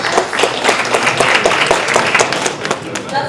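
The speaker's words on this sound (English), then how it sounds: "Let's actually give another big round of applause to all of the startups" An audience at a Korean startup summit in Silicon Valley applauds in a loud, dense burst of clapping that holds steady and then thins slightly toward the end.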